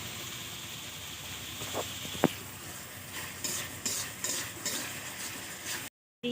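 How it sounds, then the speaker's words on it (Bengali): Spice mix fries in a pan with a continuous close sizzle and hiss, broken by occasional spoon clicks and stirring scrapes, with a brief dropout near the end and no talk. "মশলাটা আমি ফ্রাই করছি"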